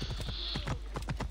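Horse hooves clip-clop in a steady trotting rhythm in Assassin's Creed Origins, a close, even series of dull thuds over a constant ambient bed, with no talk.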